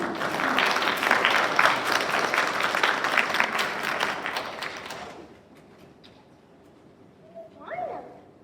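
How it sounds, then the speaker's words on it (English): Loud crowd applause fills the first five seconds, then cuts off; a brief voice speaks near the end. "Can you guys give them a round of applause?"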